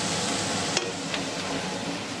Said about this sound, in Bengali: আর এদিকে পেঁয়াজটা ভাজা হচ্ছে।